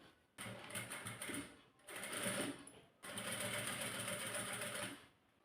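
A sewing machine stitching a folded neck strip runs in three bursts of rapid, steady whirring needle rhythm, separated by brief pauses, close and moderately loud with no talk.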